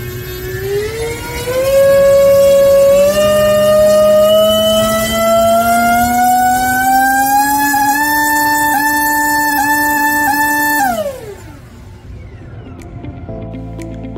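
A small engine built for a student aircraft project, likely a jet or turbine, runs through a thrust test: a loud, steady whine that rises in pitch as it spools up, holds, then drops off sharply near the end.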